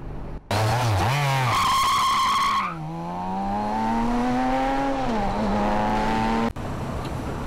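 A car engine revs up and pulls away with a brief tire squeal, then holds a steady, loud drone as it drives off.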